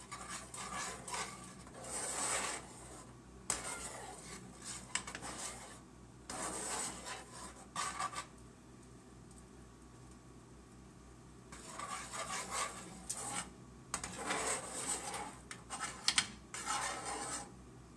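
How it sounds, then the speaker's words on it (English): A simmering pot of ratatouille is stirred, giving repeated rasping scrapes of a utensil against the pot in several bursts separated by quieter pauses, close and moderately loud. "I see this starting to boil a little bit, so I'm going to turn it down and give it a quick stir"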